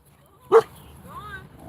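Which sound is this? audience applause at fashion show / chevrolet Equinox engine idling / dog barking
dog barking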